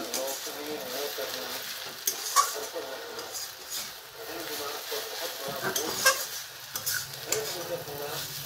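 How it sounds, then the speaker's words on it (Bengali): Taro stolon chachchari with grated coconut is stirred in a frying pan, giving a steady close sizzle under scraping and clinking of a utensil against the pan. "একটু নেড়ে দেবেন, নেড়ে মিশিয়ে দিচ্ছি।"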